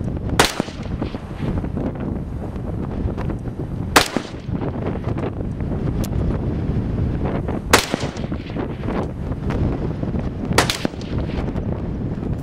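Precision rifle shots fired at an outdoor range: four sharp, loud reports spaced a few seconds apart over steady, heavy wind noise.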